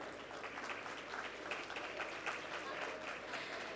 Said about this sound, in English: let's have a huge round of applause for our sponsors